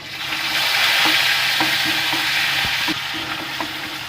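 Onion paste frying and sizzling in a pan for an egg curry with whole cinnamon, cardamom and bay leaf, a steady close hiss broken by light scrapes and taps of stirring, with no talk.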